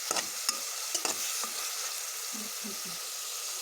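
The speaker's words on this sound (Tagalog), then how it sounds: "Haluin natin para maano siya, kumalat yung buyas na may kasamang karne na giniling." Chopped onion and ground meat fry in a pan while being stirred, with sharp utensil clicks and scrapes over a continuous close sizzle.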